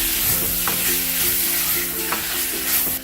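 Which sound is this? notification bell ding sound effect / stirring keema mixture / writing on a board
stirring keema mixture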